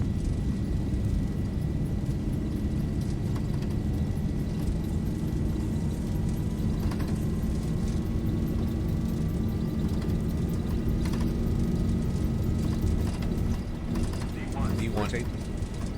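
Airliner takeoff roll in the X-Plane 11 flight simulator, Ryanair flight out of Dublin: a steady, loud engine roar with a rising whine holds throughout, with voices talking over it.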